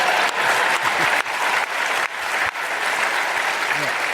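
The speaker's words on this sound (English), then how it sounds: "Now that deserved a clap" Audience applause fills a podcast-style talk session, a dense steady wash of many hands clapping close and loud, with brief dips but no pause, and a voice faintly audible beneath.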